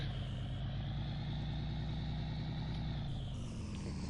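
A heavy truck in Farming Simulator 19 drives off to park, its engine a steady low rumble with a faint beeping tone near the end, heard alone with no talk.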